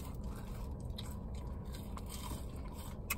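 Someone bites and chews crunchy, sweet jerk-spiced snacks close up, with a run of crisp crunches and small cracks over a low background hum.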